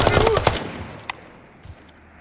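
Automatic gunfire in the tactical shooter game Incursion Red River, a rapid burst of shots at the start followed by a couple of isolated cracks fading into quiet, with a voice briefly audible.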